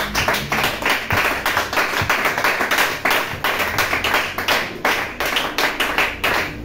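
A church congregation clapping in steady rhythmic unison to acclaim Jesus, loud and close, with sharp repeated claps running the whole time and no speech over them.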